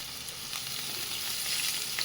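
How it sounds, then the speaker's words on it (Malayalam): Onion, green chilli and ginger sizzle and hiss while being sautéed in a pan for semiya kichadi, a steady close frying crackle with faint stirring and no talk. "ഇഞ്ചി ഇട്ട് നല്ലോണം ഒന്ന് വഴറ്റിയെടുക്കാം"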